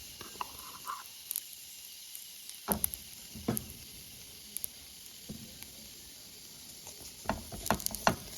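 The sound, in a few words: oil sizzling while frying food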